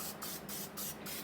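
Cooking spray misted into a baking pan in three quick, close hissing bursts with brief gaps between them.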